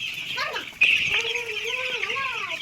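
Chickens cluck and chirp continuously on a poultry farm, a dense flock chorus of overlapping calls close by, with a sharper cry standing out partway through and no talk.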